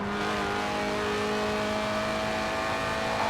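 A Lotus Elise, a mid-engined two-seat 90s roadster, drones steadily in Forza Horizon 4, its engine tone held at a fairly constant pitch throughout with road noise underneath, moderately loud and alone.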